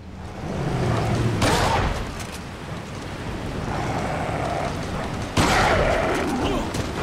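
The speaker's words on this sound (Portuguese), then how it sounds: "eu dei um tiro na direção dos dois, mano" Shotgun blasts in the video game Resident Evil 4, two booming shots a few seconds apart over a steady rain-like background hiss, no speech.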